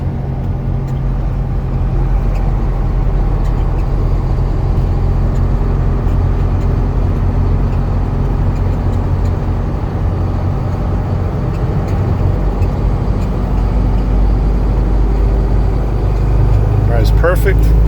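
A 2020 Hino 155 box truck with an 18-foot box cruises at about 50 on the road, a steady loud low engine and road rumble from inside the cab, unbroken throughout.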